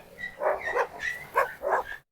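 Cane Corso dogs bark and yip while fighting for dominance, a rapid run of about five close, loud bursts before an abrupt cutoff.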